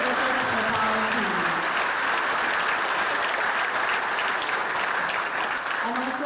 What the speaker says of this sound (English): So can we please have a big round of applause for the entire Visit Nepal team.